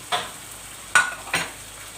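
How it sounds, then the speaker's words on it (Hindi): Tomatoes tipped into a pan of frying chicken for desi dhaba-style chicken, three quick sizzling bursts as they hit the hot oil and get stirred, fairly quiet over a low steady hiss. "अब हम क्या करेंगे, हम इसमें अपने टमाटोज जो हैं वो हम इसमें ऐड कर देंगे"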